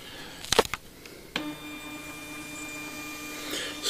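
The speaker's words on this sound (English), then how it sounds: "The printer is working." A GE DINAMAP Pro 1000 patient monitor's built-in printer starts up after a few sharp clicks, then runs as a steady close mechanical hum with a faint whine, alone with no talking.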